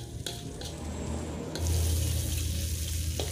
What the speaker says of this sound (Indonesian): kita bisa tambahkan sedikit air supaya bumbunya juga lebih tanak lagi